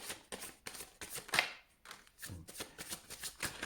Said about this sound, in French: je prends une carte à la fois